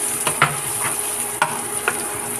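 Onions frying in a pan for sweet chili sotanghon balls, a steady close sizzle broken by a few sharp scrapes and clicks of a spatula stirring.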